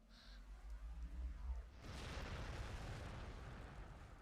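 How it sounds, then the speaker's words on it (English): Explosions in the Warhammer 40,000: Gladius strategy game break into a dense, continuous rumbling barrage of blasts that fills the second half, loud and sustained, with no voices during it. "There's lots of explosions going off there."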